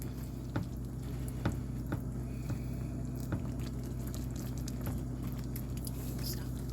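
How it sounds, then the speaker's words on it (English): Pork chops simmer in gravy in a pan, a soft steady bubbling and light popping pattering throughout, with occasional faint clicks and quiet sounds nearby. "try to get gravy all over those and let those simmer just a little bit"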